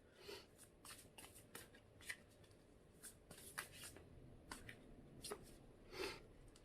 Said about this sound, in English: I usually pull 2 to 3 cards here, depending on what wants to come out.